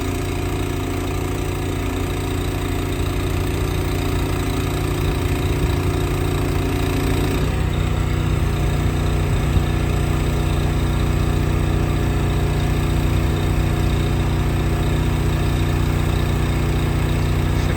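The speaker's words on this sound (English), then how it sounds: "Put on the brake, truck's in drive, raising up the trailer, about to let it start sliding off the back" A truck engine runs steadily at a low idle-like rumble while a dumpster trailer is raised, the drone continuous and close with a slight shift in tone partway through, no voices.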